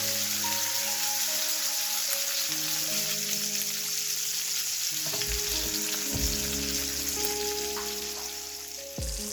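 Wagyu sirloin steak sears in a hot pan with a steady, loud sizzle and crackle of rendering fat, holding continuously with occasional spits and a slight dip near the end, no talking.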